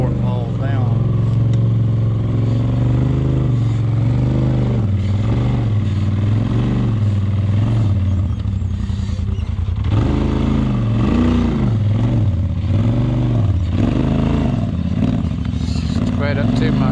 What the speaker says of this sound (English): they just nail the gas to drive across it before it falls down